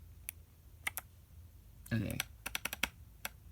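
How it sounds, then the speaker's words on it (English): Typing on an 8BitDo retro mechanical keyboard, scattered crisp key clicks and a quick flurry of presses, close and fairly quiet, with a brief spoken word in the middle. "We'll try it with the buttons on the keyboard."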